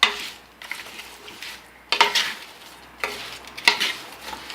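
Avial vegetables get stirred in a pot in three or four distinct rounds of scraping and clattering, a spoon knocking against metal, close up with quiet pauses between.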